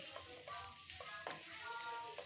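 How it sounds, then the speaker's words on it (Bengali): Chopped ginger sizzles and spits in hot oil in a pan while cooking a sago pulao, with a steady frying hiss and occasional stirring scrapes. The sound is quiet and close, with no talking. "আদাটাকে দিয়ে ভালো করে একটু ভাজা ভাজা করে নিচ্ছি"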